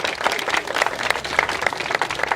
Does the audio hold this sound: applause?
yes